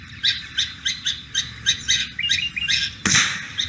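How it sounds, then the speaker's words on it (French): Recorded red-whiskered bulbul song plays in a loop as a lure, giving a run of bright, repeated chirping phrases at an even pace, followed by one sharp loud burst near the end. "Des chants d'oiseaux enregistrés sont diffusés en boucle durant une dizaine de minutes"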